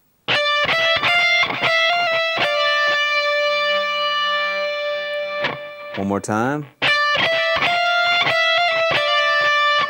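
An electric guitar plays a phrase from a solo, with bends, hammer-ons and pull-offs high on the neck. Sustained, ringing notes come loud and close, broken once by a short spoken phrase before the notes resume.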